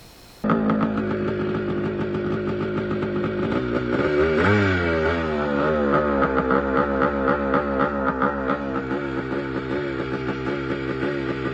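A 500cc two-stroke dirt bike engine with a bad air leak runs loud and close, its uneven idle climbing into a rough rev around the middle before settling into a rapid, pulsing, slightly erratic putter.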